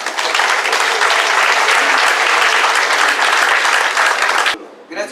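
Loud, sustained audience applause at a Peruvian band concert, a dense roar of clapping that carries on for several seconds before cutting off abruptly near the end.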